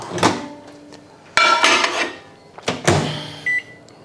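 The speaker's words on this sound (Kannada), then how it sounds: "ಇಲ್ಲಿಡ್ತೀನಿ ನೋಡಿ, ಮೈಕ್ರೋವೇವ್ ಓವನಲ್ಲಿ" A microwave oven door clunks shut, buttons beep, and the oven starts up with a steady hum amid a few kitchen knocks.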